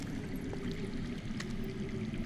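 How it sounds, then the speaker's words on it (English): Underground water flowing steadily in the Game of Thrones Telltale video game, a continuous rushing, pouring wash with low rumble that stays even and fairly close throughout, no talk. "I hear water. From underground."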